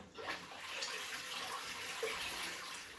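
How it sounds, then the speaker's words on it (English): A return pump pushes water back up into a saltwater aquarium, giving a steady, close rushing and splashing flow that runs evenly throughout with no talk. "turn the return pump on. That will then start to pump the water back up into the tank."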